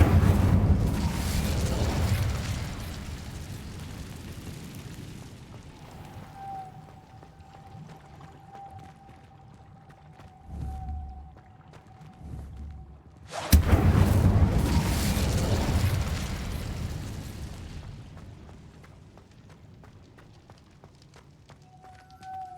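An Incendio fire spell is cast in the Hogwarts Legacy video game, a loud roaring fiery burst that fades, then a second heavy whooshing blast follows after a quiet stretch with a thin sustained tone.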